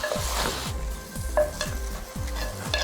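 Mutton chops in a chilli-coriander masala gravy sizzle in a handi pot while a spoon stirs in a regular rhythm, with repeated thick scraping strokes over a constant close frying hiss.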